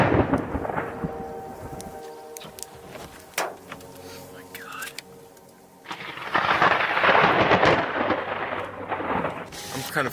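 Thunder rumbles from a lightning storm during tornado storm chasing, with deep rolling booms and crackles, a loud prolonged roar building near the end, under speech.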